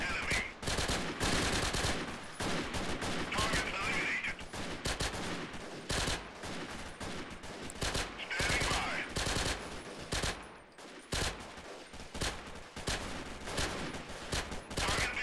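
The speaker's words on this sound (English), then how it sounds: "Obviously, I'm using a SMG that's not supposed to be used at this range" Rapid submachine gun bursts in the video game Freeman: Guerrilla Warfare during a charge across an open field, dense repeated gunfire cracks running throughout with short pauses, loud and close.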